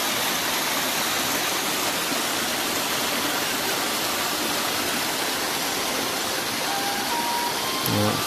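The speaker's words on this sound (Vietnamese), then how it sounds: "Suối các anh chị." Stream flowing at a tourist area in Ha Long, Quang Ninh: a dense, steady rush of water that stays close and even throughout, with no voices over it.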